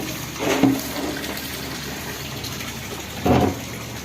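Dirty water scooped from a fish pond during cleaning is dumped outside in two short, splashy pours a few seconds apart, over a low steady background hum.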